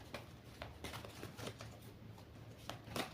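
A deck of cards is shuffled by hand, giving a few faint, close riffling bursts spaced out over a few seconds with no talking.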